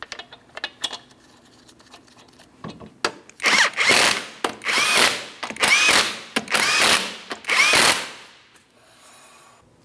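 A power tool runs home 19mm lug nuts on the front wheel of a 2003-2007 Cadillac CTS, giving about five loud, close whirring bursts in a row with short pauses between them.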